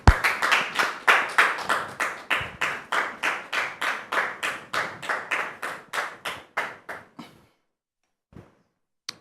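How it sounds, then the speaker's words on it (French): A small audience welcomes a guest at a talk show with a round of clapping, close, sharp claps in a steady rhythm, about twenty in all, that stop abruptly, followed by a brief faint tap before silence. "Recevons maintenant sous vos applaudissements M. Kolia"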